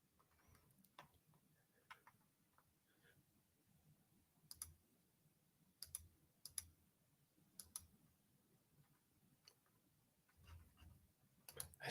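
A computer mouse clicks sporadically during interior design work in Twinmotion, with faint, quiet single and double clicks scattered irregularly across a near-silent background.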